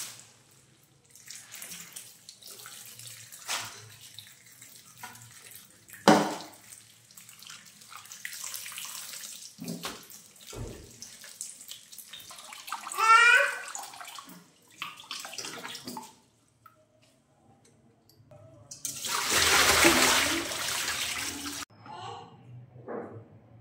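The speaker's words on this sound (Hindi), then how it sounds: "अभी जो है पालक मैं धोने लगी थी" Tap water runs into a kitchen sink as spinach is washed by hand, with intermittent splashes and handling noises and a louder gush near the end.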